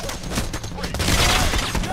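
Rapid gunfire from the video game Payday The Heist during a bank robbery mission, a dense, sustained burst of shots filling the whole moment at steady loudness.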